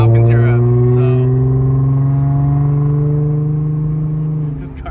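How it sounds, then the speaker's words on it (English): A loud 2023 Kia Stinger GT2 engine drones steadily nearby, its deep tone rising slightly in pitch before easing off near the end. "this car is obnoxiously loud."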